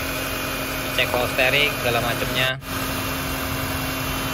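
2004 Honda Stream automatic with a 2000 cc e-VTEC engine idling, a steady low hum with a faint constant whine, while someone speaks briefly over it.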